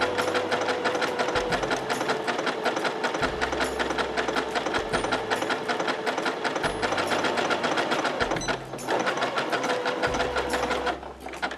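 A sewing machine stitches a buttonhole in a fast, continuous mechanical chatter, close and steady, with a faint low thump recurring every couple of seconds as the stitch pattern shifts direction.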